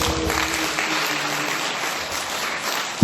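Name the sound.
congregation applause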